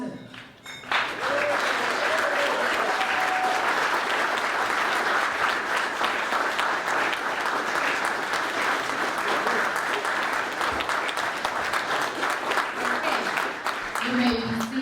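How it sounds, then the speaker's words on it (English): A room full of guests at a debutante ball stands and claps together, a loud, sustained wash of applause that swells after a brief spoken moment and continues steadily for over ten seconds. "And applaud"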